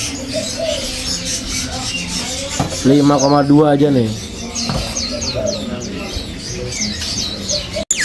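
A cucak ijo (green leafbird) kept in a cage: a short, bright, warbling burst of birdsong stands out clearly for about a second amid background chatter. People talk throughout.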